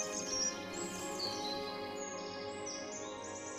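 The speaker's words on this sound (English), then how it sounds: "the best conditions are found by a collared flycatcher" A collared flycatcher sings in a natural forest, short high chirps and whistled notes repeating over a steady droning background, fairly faint and distant.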